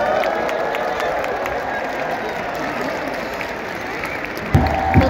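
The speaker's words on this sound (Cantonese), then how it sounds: "接受球迷嘅歡呼，接受球迷嘅掌聲" Stadium crowd of football fans cheering and applauding the Japan national team after the World Cup qualifier against Bahrain, a steady roaring wash of claps and shouts throughout, with a couple of louder bursts near the end.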